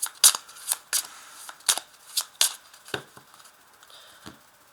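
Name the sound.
tarot cards being cut and shuffled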